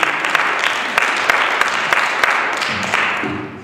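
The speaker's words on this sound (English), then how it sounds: "Let's give a round of applause" An audience at a poetry slam competition in Canton applauds a competitor, sustained clapping at close range that thins out near the end.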